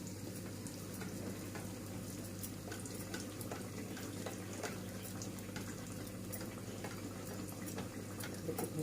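Donut dough puffs up as it fries in hot oil, giving a steady, soft bubbling and fizzing with scattered tiny pops and no voices.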